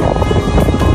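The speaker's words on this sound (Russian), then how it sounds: "И ветер." Strong wind at the Parus sail-shaped sea rock, a loud, dense roar of gusting air and microphone buffeting, continuous for the whole brief moment with no talk.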